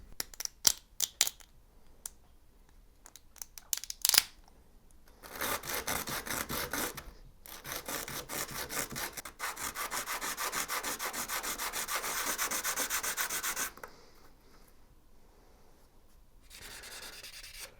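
Sandpaper rubbing the lumpy backs of 3D printed car parts: a few sharp scrapes, then long continuous raspy sanding strokes, close and moderately loud, stopping briefly before resuming.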